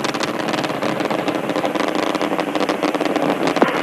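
Space Shuttle Discovery's three main engines roaring during the STS-51I launch in August 1985, a steady, dense, loud broadband rumble that holds constant throughout with no pauses.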